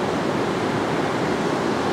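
Ocean surf washes up a beach where sargassum has drifted ashore, a steady close broadband rush of water filling the whole moment with no voices.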